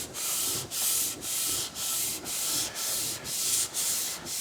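The sole of a Starrett 199 master precision level lapped back and forth on 220 grit sandpaper over a flat surface plate: rhythmic, even gritty rasping strokes, about nine passes in a steady cadence, close and alone.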